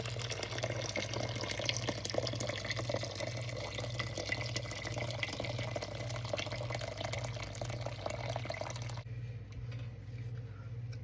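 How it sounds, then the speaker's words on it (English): A steady stream of water poured into an Instant Pot, a continuous splashing fill with a low hum underneath that stops abruptly near the end, fairly faint and with no talk. "this is 8 cups of water going into the Instant Pot."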